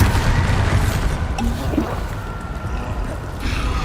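Bombarda blasting spells cast during combat in the Hogwarts Legacy video game: a dense, loud rumble of booming explosions, splashing and crackling impacts sustained throughout, with no speech over it.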